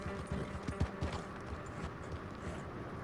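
Horse hooves clip-clop at a steady gait in the video game Red Dead Redemption 2 Online, a run of close, distinct hoof strikes over low ambient game sound.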